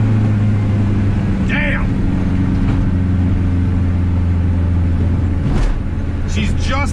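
A 500 HP turbocharged K24 street car pulls hard in third gear with a loud, sustained engine drone. A voice exclaims partway through.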